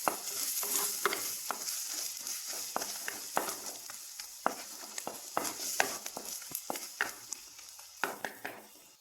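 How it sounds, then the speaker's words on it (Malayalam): Chili powder is stirred into egg rice frying in a pan: a steady close sizzle with repeated scraping, clicking strokes of the spoon against the pan, getting crisper toward the end. "ഇത്രയും കൂടെ നമുക്ക് ഇട്ടൊന്ന് ഇളക്കിയെടുക്കാം"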